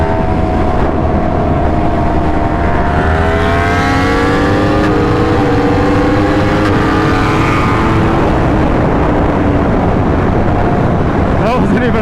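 A Yamaha R1 sportbike engine rising in pitch as it accelerates hard on a street ride, loud and continuous with rolling wind noise throughout, climbing through several rising sweeps across the run.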